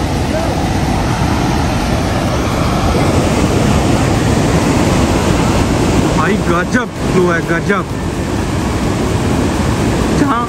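Mukkha Falls waterfall sends a steady, loud roar of crashing water that fills the whole clip, with people talking excitedly over it partway through.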